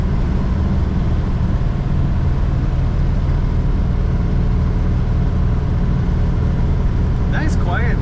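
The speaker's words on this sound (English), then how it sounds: "Nice, quiet, stock sounding car." A 1956 Mercury Custom two-door with its stock engine cruises steadily, a smooth, quiet low engine drone with road noise heard from inside, and a voice briefly speaking near the end.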